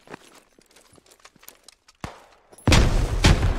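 A fragmentation grenade blows up in a first-person shooter, a loud, close burst with a long rumbling tail after some quieter clicks and footsteps, followed by a second heavy blast.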